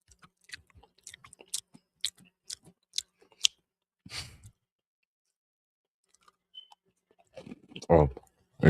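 Cookies chewed close to the mic in a late-night setting, with a run of short crisp crunches and clicks, a pause, then a louder burst of crunching near the end.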